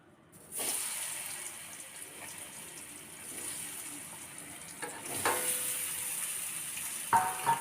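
Giant taro and potato pieces frying in a pan over high to medium flame after burnt tempering spices, a steady close sizzle with a sharper burst of spitting around the midpoint and a few stirring scrapes near the end.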